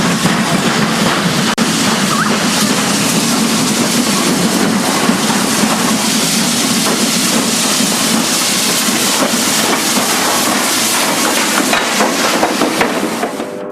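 Train 22 pulls out on its 07:20 departure from Jingshan to Hegang, a loud, steady rumble with rhythmic clickety-clack of wheels and wagons that continues without a break.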